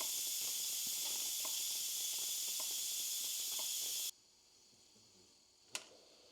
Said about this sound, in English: now we're going to do a manual pressure release